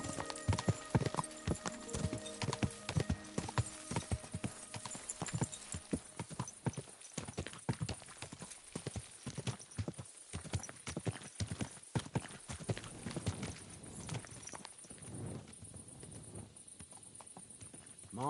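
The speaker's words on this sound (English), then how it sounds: "My, what a beautiful horse." Horse hooves clip-clop steadily at a gallop in Kingdom Come: Deliverance 2, with a neigh or whinny among the rapid, loud hoofbeats, which fade toward the end.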